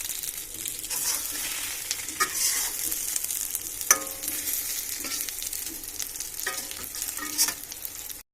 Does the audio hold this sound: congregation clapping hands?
no